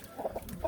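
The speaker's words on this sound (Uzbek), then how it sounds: "Makonchalarimiz jang qilyapti." Hens scuffle in a short burst of clucks and squawks, fairly close but quiet, with no voices.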